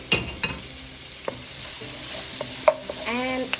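Diced white onion sautéing in melted butter in a pan, with a soft steady sizzle under several sharp clinks of a utensil stirring against the pan.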